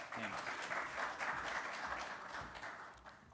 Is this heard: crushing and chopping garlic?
no